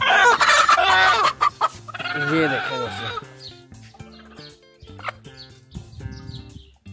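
Backyard chickens, a rooster and hens, clucking loudly and close, with a burst of excited cackling followed by quieter scattered clucks, while someone speaks briefly at the start.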